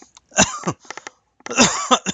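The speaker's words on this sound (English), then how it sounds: "A bit of a coughing spell." A few harsh coughs in two bursts separated by a short pause, close and fairly loud, with a throat-clearing quality.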